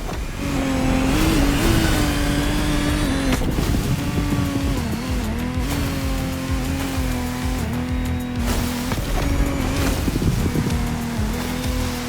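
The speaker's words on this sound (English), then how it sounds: "Incredible boat, that Technomar." Lamborghini Technomar powerboat racing on a slightly turbulent sea in The Crew Motorfest; a loud, close engine whine that rises and falls in pitch over constant wash and rushing water.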